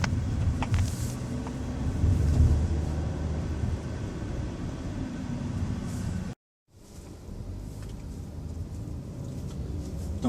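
A car with an automatic transmission creeps through congested city traffic, its low engine and road rumble steady throughout, with one brief cut to silence partway through.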